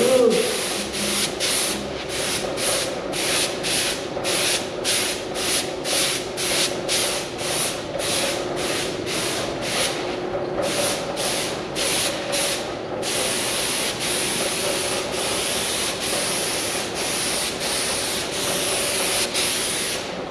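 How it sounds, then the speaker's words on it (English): Spray primer hisses from an aerosol can onto an old saw in a workshop, a loud, close stream broken into repeated short bursts and then longer continuous passes. "Primer's getting old, we'll go ahead and primer everything."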